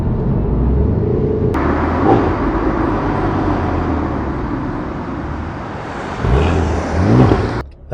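Renault Clio V6 hot hatch pulling steadily in fourth gear, a continuous loud engine and road roar filling the cabin with a brief gear-change break near the end.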